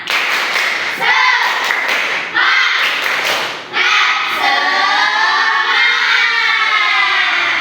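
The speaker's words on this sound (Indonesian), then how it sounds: "Kita tepuk semangat dulu yuk." A class of fifth-grade pupils does the rhythmic 'tepuk semangat' spirit clap, loud patterned bursts of group clapping with short pauses, followed by children's voices chanting together.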